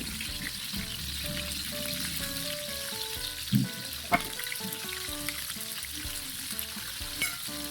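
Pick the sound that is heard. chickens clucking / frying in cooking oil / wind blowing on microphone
frying in cooking oil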